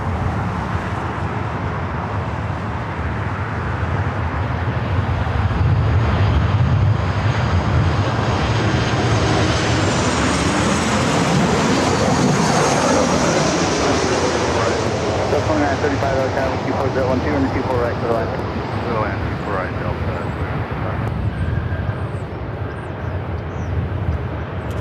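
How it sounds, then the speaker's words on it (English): Airliners, including Delta 737-800s, touch down on runway 24 at LAX, heard as a loud, sustained jet roar rising and falling across the scene. Any tire screech is buried in the engine noise, and a voice talks faintly underneath. "you can hear these tires screeching as the planes touch down on 24"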